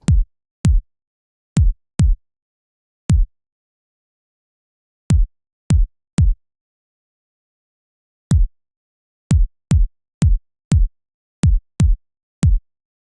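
A synthesized kick drum made with an oscillator thumps alone in irregular bursts, each hit a sharp click falling into a short deep boom, with silence between them.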